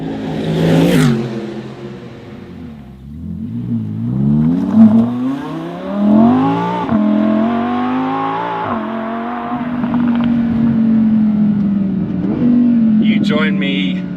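Race cars at a 24-hour race accelerate past close by, engine notes rising and falling through gear changes in a loud, continuous stream of passes.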